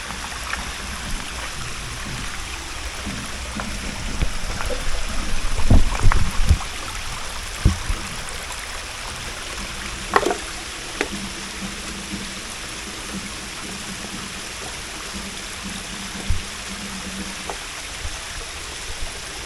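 Stream water runs steadily past a small waterfall on a forested hill, a constant close wash with a few scattered splashes and knocks.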